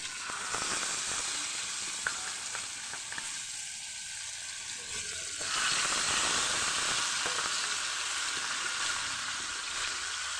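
Three fish fry in a little hot oil in a pan with a loud continuous hiss and sizzle that grows fuller and stronger partway through, close up with no talking.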